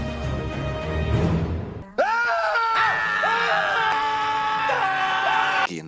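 Several people in a horror-comedy film scene scream together, loud overlapping shrieks and groans that start, break off briefly, then surge again and hold.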